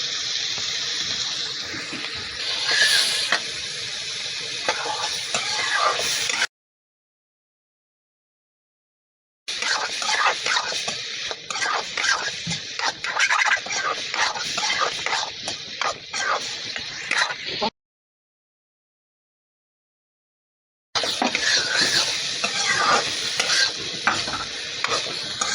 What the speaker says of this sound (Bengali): আমি সোয়াবিনগুলি সুন্দর করে ভেজে নিব, ভালো করে ভেজে নিব।